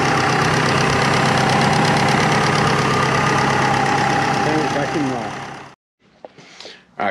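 A Subaru Forester fitted with twin turbos, a GT35 and a TD05, idles loud and rough close by with a dense, knocking rumble, then cuts out abruptly, leaving brief faint noises before a final burst.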